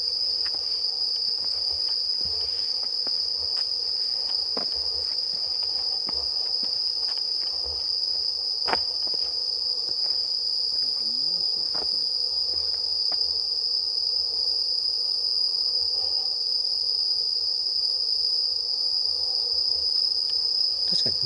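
Crickets chirp at night around the Hazama Fudoson shrine grounds, a steady, dense insect trill holding throughout with no other sounds and no voices.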